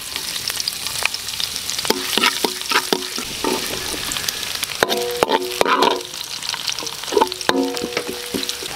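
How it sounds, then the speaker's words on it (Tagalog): Ginger sautéing in a pan for chicken dinuguan, a close sizzle broken by frequent spatula scrapes and metallic clinks against the pan. "Gisa tayo, luya."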